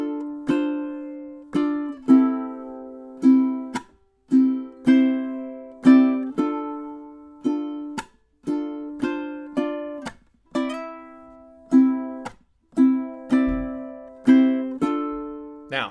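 Ukulele strumming measures 21 to 24 of a song, clear plucked chords in a steady repeating rhythm with brief pauses.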